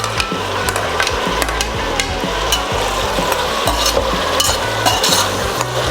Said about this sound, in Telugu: ఇప్పుడు ఇందులో టొమాటోస్ యాడ్ చేస్తాను.